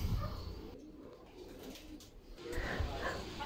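Victor Fabry racing pigeons coo softly in a loft, low murmuring calls rising and falling in a quiet, close ambience.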